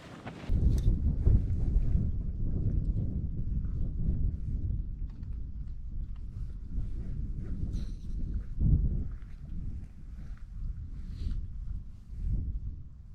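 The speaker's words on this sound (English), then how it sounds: "But that wind is cold." Cold wind buffeting a microphone at a mountain wild camp in the Brecon Beacons, a loud, low, continuous rumble with gusty surges, close and unbroken throughout.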